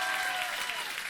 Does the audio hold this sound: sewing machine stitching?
no